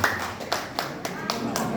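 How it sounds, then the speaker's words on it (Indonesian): An audience at a Banyumas labor union (SPSI) gathering claps in a steady, evenly spaced rhythm, about one clap every quarter second, fairly close and moderately loud. "Tepuk tangan untuk SPSI dan teman-teman semua."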